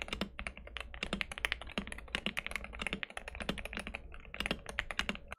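Rapid, continuous typing on a Wooting 60HE+ magnetic switch keyboard, stock, crisp clacky keystrokes in quick uneven bursts, close up and clear with no voices.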